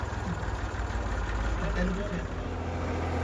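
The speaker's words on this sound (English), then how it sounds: "Lots of tractors going all the way around here." Tractors drive past on a busy narrow road in a gorge, giving a close, rumbling diesel engine drone that stays steady throughout, with a voice speaking over it.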